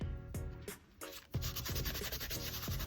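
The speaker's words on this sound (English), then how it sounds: "just rub the leaf part" Hand rubbing over a scrap of wallpaper pressed onto an art journal page to transfer a leaf print, heard as steady, close dry scraping strokes with a few sharper knocks between them.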